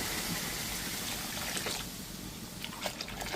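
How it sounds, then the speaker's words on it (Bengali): Hot water poured steadily into a cooking pot of hilsa biryani, a continuous splashing gush that holds fairly even for a few seconds. "এই যে গরম জলটা আমি এই চাপনিতে দিয়ে দিচ্ছি"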